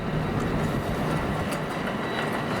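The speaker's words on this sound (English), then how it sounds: "This is what that train all is." A train rumbles past close by at night during a Christmas light display, a steady dense roar with a rhythmic wheel clatter that holds loud and even throughout, with no talk.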